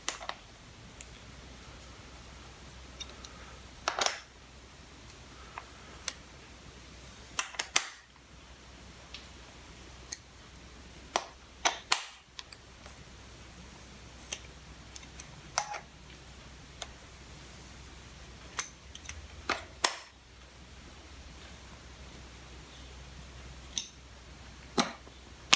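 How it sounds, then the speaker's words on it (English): Top cover bolts come off a Suzuki GSX-R 750 SRAD engine, sharp scattered metallic clicks and ticks from a tool over a quiet background, irregularly spaced. "we start by losing these 6 bolts, which hold on the top cover."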